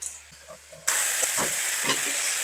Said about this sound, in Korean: 얘가 자글자글 끓을 때 자, 끓어오르죠? 자, 이때 바로 가지를 투하.